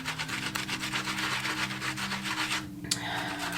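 Makeup brushes scrubbed clean by hand, a close, steady rhythmic rubbing and bristle scratching with a short pause near the end, no talking.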